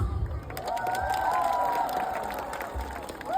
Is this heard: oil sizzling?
no